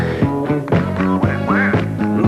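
A voice imitates a duck in a joke song, giving a string of loud, nasal quacks in a steady rhythm up close, with a musical backing underneath.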